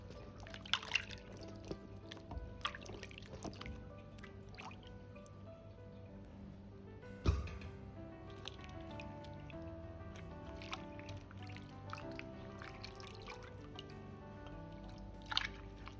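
Long beans and eggplant are rinsed in a basin of water: quiet, intermittent splashes, drips and soft sloshes close by, with short gaps of near silence between them.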